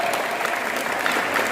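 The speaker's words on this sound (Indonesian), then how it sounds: "tepuk tangan dulu buat Bapak kita" An audience at an Indonesian youth football coaching event claps in dense, sustained applause that stays even and fills the whole moment.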